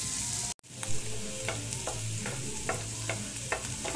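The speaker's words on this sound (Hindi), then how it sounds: "येलो कैप्सिकम हम अच्छे से सॉटे करेंगे" Mixed vegetables including red bell pepper and yellow capsicum are sautéed on low heat in a pan for Indian-style macaroni, a soft steady sizzle with light periodic stirring scrapes, close and with no voices.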